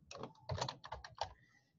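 Computer keyboard typing in a quick run of clustered keystrokes, close and moderately loud, trailing off after about a second and a half.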